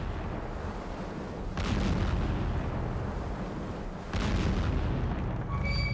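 Two heavy booming gun salute shots from a submarine, roughly two and a half seconds apart, each leaving a loud rumbling wash of noise, with no talk.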